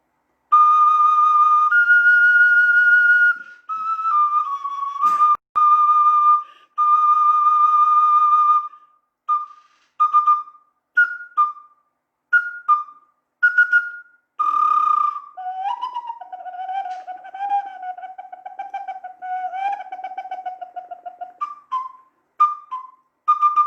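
A bird-shaped whistle plays bird-like calls: long sustained high tones, then short chirping bursts and warbling, sliding notes, clear and close with no talking.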